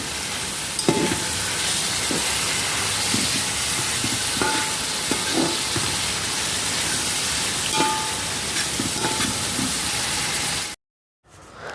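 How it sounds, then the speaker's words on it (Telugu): Chopped coriander frying in a pan while coconut rice is being made, giving a loud, steady, continuous sizzle with occasional stirring clicks and scrapes, close up, before cutting off abruptly near the end. "ఇక్కడ కొత్తిమీర అయితే చాప్ చేసుకున్నది అయితే దానిలోనే వేసేసుకొని దాంతోపాటు ఫ్రై చేసేసుకుంటున్నాము"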